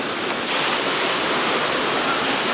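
A stream and waterfall in Lauterbrunnen give a loud, steady broadband rush of falling and flowing water, constant and close throughout, with no talking.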